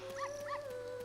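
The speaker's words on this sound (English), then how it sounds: "I need this dog right here." A short synthesized dog bark or yip from the video game The Legend of Zelda: Ocarina of Time, two quick tonal barks over a faint steady game background.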